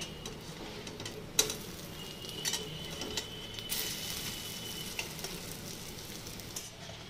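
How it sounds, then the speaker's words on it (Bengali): Urad dal bori fry in hot mustard oil, a continuous soft sizzle with a few sharp clicks and taps of utensils against the pan, fairly quiet and close, with no talking. "সরষের তেল গরম করে নিয়েছি, বড়া ভেজে নেব। আমি বিউলির ডালের বড়িগুলো ভেজে নেব।"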